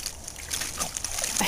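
A toy splashes into a backyard swimming pool during play with dogs named Tucker and Brody, a brief watery splatter rising near the end over steady broadband noise and sloshing.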